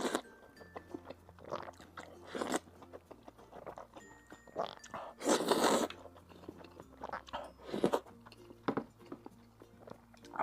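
Close, wet chewing and biting on very tender braised beef brisket, with soft crunches and smacking in irregular bursts, and a voice talking between mouthfuls.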